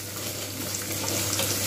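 Spiny gourd and onion frying in oil, a dense continuous hiss of sizzling, close and steady with no breaks.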